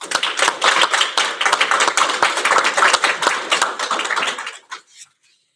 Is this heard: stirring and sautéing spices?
no